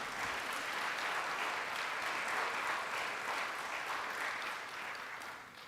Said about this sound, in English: let's round of applause for Bambi